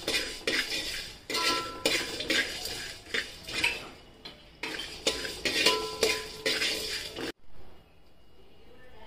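Whole nutmeg, cloves and cardamom dry-roasting in a pan, stirred with a metal spoon in repeated scraping and clinking strokes that rise and fall, then quieting near the end.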